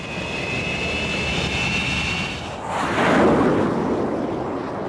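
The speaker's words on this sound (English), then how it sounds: "Then, wound up to full power, the pilot stiff arms the stick with his right hand and the throttle with his left." A Grumman F9F Panther jet fighter runs at full power on a carrier catapult before launch, its loud, close jet roar and high whine swelling into a broad rushing blast as the aircraft fires off the deck.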